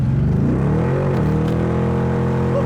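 A supercharged Corvette accelerating on a test drive, its engine note rising in pitch as it pulls hard, loud and close from start to end, with no talk.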